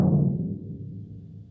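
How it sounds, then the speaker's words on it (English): A single deep, booming bass drum hit rings out with a long resonant decay, like a concert bass drum, with no voices. "So it's almost like a concert bass drum."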